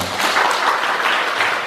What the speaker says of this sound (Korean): 여러분 박수로 한번 모셔보겠습니다